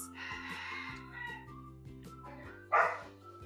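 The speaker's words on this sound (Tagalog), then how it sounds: "sobrang ingay ng mga aso" Several dogs bark and yip in the distance over steady background music, with one louder, closer bark near the end.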